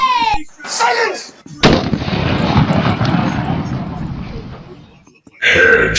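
Video game gunfire as a player shoots a Terminator enemy, a dense sustained burst of loud shots lasting several seconds, with excited talk just before and after.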